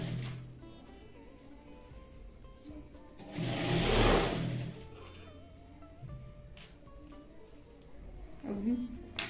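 A sewing machine stitches a lining piece onto a utility bag in a short, close run, with a person talking before and after it.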